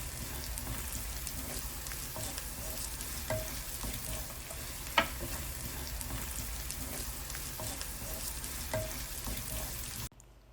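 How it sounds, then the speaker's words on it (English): Ingredients for fish rolls frying in a pan over low heat, a continuous quiet sizzle with scattered pops and one sharper crackle, cutting off abruptly at the end. "I am going to fry them for 3 to 5 minutes till they start to"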